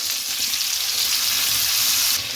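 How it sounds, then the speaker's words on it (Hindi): Chicken frying in a pan on its second side, a loud, continuous hiss and crackle of hot oil close up, steady throughout with no talking. "अब हम इसकी दूसरी साइड पे भी इसको फ्राई करेंगे ताकि इसका दोनों साइड से अच्छा सा कलर आ जाए।"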